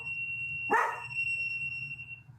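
A single sharp dog bark, short and fairly near, over a quiet room with a steady high electronic tone.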